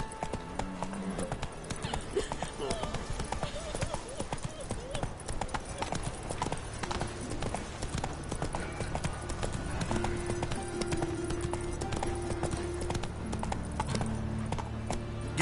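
Horse hooves clip-clop in a fast, steady galloping rhythm in a video game, loud and continuous throughout, with game dialogue and a player talking over it.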